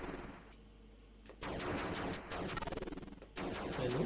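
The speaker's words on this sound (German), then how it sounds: "Hier schieße ich wieder gerade" Shooting in the Atari video game Space Jockey comes as rapid, buzzy electronic bursts, one with a fast stuttering pulse, separated by short gaps of low static.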